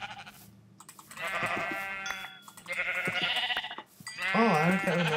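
Sheep bleating in a blocky survival video game, several separate electronic bleats in bursts, fairly loud and close, with no talking over them.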